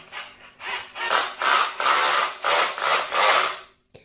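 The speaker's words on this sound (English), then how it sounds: "Let's increase the torque on the drill." A power drill whirs in repeated bursts while priming oil through an engine being built, about half a dozen surges of grinding, rasping noise with short pauses between, fairly close and loud.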